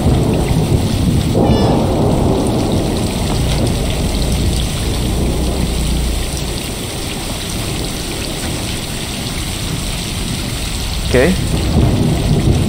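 Heavy rain with thunder in Stray, a loud continuous downpour with deep rumbling; someone speaks briefly at the start.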